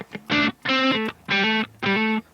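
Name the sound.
electric guitar through JCM800 amp plugin without effects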